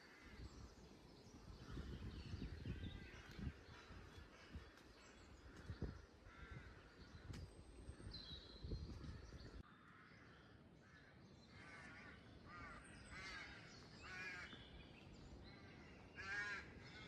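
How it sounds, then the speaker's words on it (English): Harsh chattering calls of a magpie among sycamores on a quiet coastal cliff in the Undercliff at Ventnor, Isle of Wight, repeated in bursts at moderate distance over soft outdoor ambience. "Magpie"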